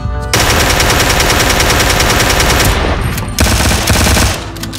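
Automatic gunfire from the shooter game Ring of Elysium: a loud, rapid, sustained burst for almost three seconds, a brief gap, then further bursts of fast shots close at hand.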